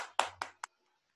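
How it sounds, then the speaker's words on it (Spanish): A few sharp hand claps for a presenter at a game design project review, three quick isolated claps close by, then silence. "un aplauso"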